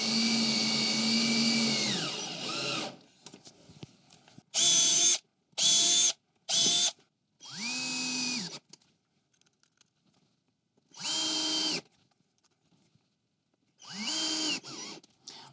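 Power drill driving a screw with a washer into a box: several short whirring bursts that start, stop and restart, some with a rising then falling pitch, close up with quiet gaps between.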